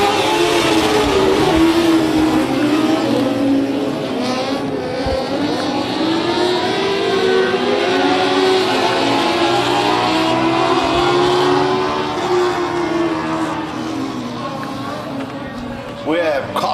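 Modified race cars at Big O Speedway roaring as they accelerate in a pack at the race start, loud sustained engine drone with rising and sweeping pitches, continuous and close throughout.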